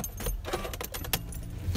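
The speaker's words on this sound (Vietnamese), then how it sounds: "các bạn bật chìa khóa lên nấc 2 nhưng không đề máy" Car keys jangle as the key is turned in the ignition to the second position without starting the engine, a close, continuous metallic rattle with a sharper clink midway, alone and without talk.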